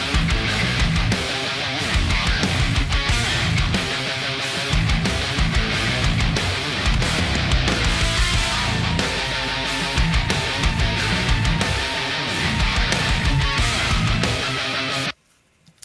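A full, dense drum mix heard without undersnare processing or tape saturation plays loudly and continuously with steady hits, then stops abruptly near the end.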